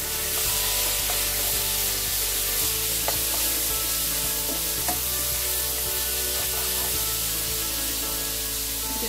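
Marinated beef stir-frying over a high flame, a loud steady sizzle with faint scraping and stirring throughout.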